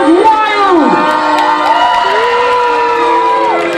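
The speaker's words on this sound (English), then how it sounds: "The crowd went wild." A loud, sustained crowd clamor of cheering and whoops at a staged princess contest, with shouting voices overlapping throughout and no single voice standing out.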